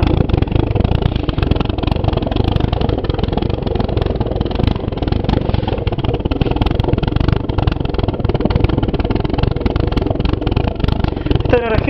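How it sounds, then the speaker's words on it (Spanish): A small water-cooled vortex pulse jet engine runs loud and steady, a continuous dense roaring rattle close by with no letup. "Ahí vemos la sonido del aparato y el calor que tira"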